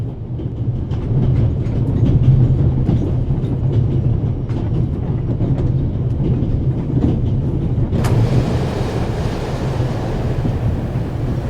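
A train rolls along the railway in the video game The Raven: Legacy of a Master Thief, a steady low rumble with rhythmic clacks that continues throughout, brightening with a rush of wind partway through.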